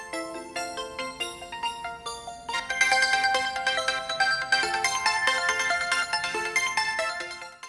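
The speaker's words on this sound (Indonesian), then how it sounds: "ringtone-nya pun bisa di custom" A custom ringtone plays on an Oppo phone running ColorOS 11 on Android 11: a bright melodic chime sequence. It starts sparse and builds into a fuller, louder run of tones lasting several seconds, with nothing else heard.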